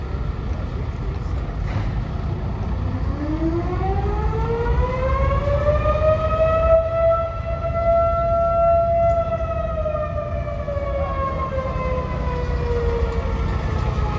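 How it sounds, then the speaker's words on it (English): An air raid siren at an ornate station winds up slowly from a low growl to a sustained high wail, then begins sagging in pitch, loud and steady over continuous background rumble. "air raid siren going off"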